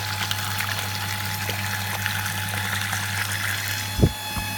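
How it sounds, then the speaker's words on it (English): Water from a pump flows steadily into a brewery mash tun during a Kölsch brew, a continuous rushing pour over a low mechanical hum, with a brief louder splash near the end. "the water going into the mash tun here"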